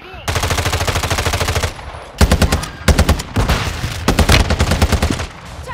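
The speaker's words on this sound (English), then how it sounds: "Oh, shooting." Rapid automatic gunfire in a video game, a loud sustained burst followed by several shorter staccato bursts separated by brief pauses, close and dominant.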